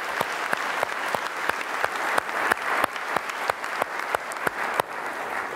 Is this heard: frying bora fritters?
no